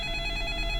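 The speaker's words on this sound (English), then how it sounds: "The sudden ringing of the phone startled everyone in the room." A telephone rings in the video game 428: Shibuya Scramble, sounding as a continuous, steady electronic ring that holds through the brief moment at moderate loudness, with no talk over it.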